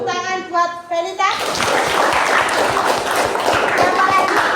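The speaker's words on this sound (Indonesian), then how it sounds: "Tepuk tangan buat Felita" A group of children in a classroom bursts into clapping for a classmate named Felita, a close, steady patter of hands that follows a short spoken line and keeps going to the end.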